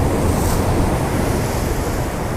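Sea waves wash in a constant loud rushing roar, mixed with heavy wind buffeting the microphone, with no voices.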